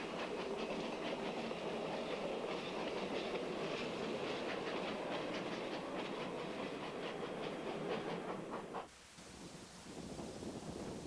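A Yreka Western Railroad train rolling along, a loud continuous rumble with rhythmic clickety-clack of wheels on rail joints, steady for about nine seconds before dropping abruptly to a quieter, rougher tail.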